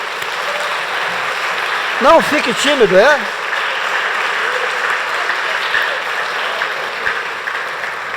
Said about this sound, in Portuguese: Você quer aplaudir Jesus? Pode aplaudir.